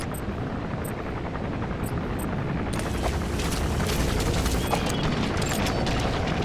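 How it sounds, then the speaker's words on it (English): An enemy gunship helicopter in a war video game: a constant, loud, dense rotor roar with a heavy low rumble and faint thuds, growing slightly fuller partway through. "The chopper will be arriving"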